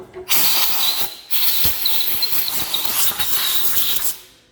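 Compressed air hisses in steady bursts as tapped bolt holes on a motorcycle fender for a Harley Road King chopper are blown out, with a short break after the first second before a long continuous blast.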